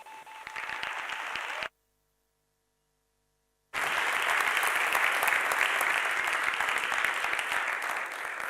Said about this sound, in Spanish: un fuerte aplauso a Juan Ramón